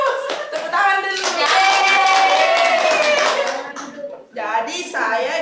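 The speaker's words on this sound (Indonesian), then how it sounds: "Tepuk tangan dulu." Classroom applause breaks out during a microteaching session as a student group is called up, sustained clapping from several people mixed with children's voices and talk, dipping briefly before resuming.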